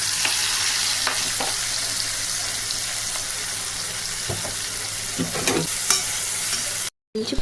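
Cumin and fennel seeds with finely chopped ingredients fry in hot oil, a loud, continuous close sizzle with occasional stirring scrapes and knocks, then a brief cut to silence near the end.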